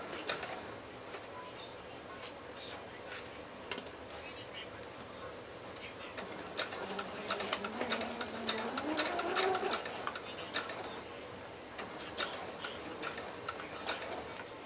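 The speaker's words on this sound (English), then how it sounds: "I'll pretend you guys aren't here and just sew it like I normally would." A sewing machine stitches a quilt, its needle ticking in a fast, steady mechanical rhythm throughout, close and moderately loud, with a soft hum underneath and no clear talk over it.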